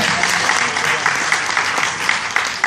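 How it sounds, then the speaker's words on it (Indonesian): Audience applause in a hall at an Indonesian founder's motivational talk, a steady dense wash of many hands clapping at even loudness throughout, with no voices over it. "Kasih tepuk tangan dulu ya."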